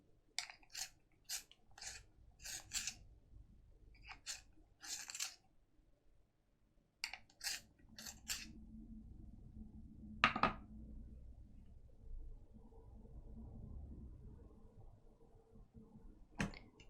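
A warm grey coloured pencil is turned in a sharpener, giving short bursts of crisp scraping and clicking separated by quiet gaps, close and fairly soft, with faint handling noise.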